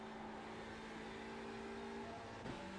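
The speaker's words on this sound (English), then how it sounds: "Hit the rev limiter." A TCR touring car in the iRacing simulator at Summit Point, its engine held at a steady high-pitched drone against the rev limiter, a sustained buzzing tone with a brief hiccup near the end.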